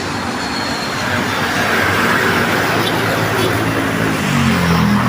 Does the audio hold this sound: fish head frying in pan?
no